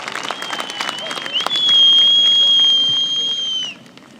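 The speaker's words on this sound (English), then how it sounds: "could we please give them a round of applause" A crowd applauds in a full round of clapping. A sustained high whistle-like tone joins midway and cuts out just before the clapping fades.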